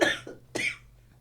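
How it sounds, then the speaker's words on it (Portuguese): Two harsh, chesty coughs from a woman with a heavy cough, close and loud, the second burst following about half a second after the first, with faint room hum between. "tá com bastante tosse"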